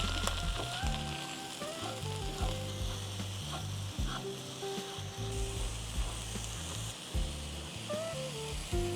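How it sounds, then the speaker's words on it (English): Mushrooms searing in melted butter in a pan, a steady close sizzle throughout with occasional tonal whistles and clinks layered over the frying noise. "Once melted, add mushrooms and sear until brown."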